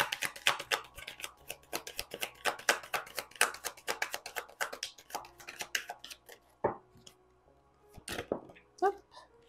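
Tarot cards are shuffled and drawn for a nine-card spread: a quick run of crisp card riffles and flicks, then a pause and a few isolated snaps as cards are laid down, fairly close and quiet.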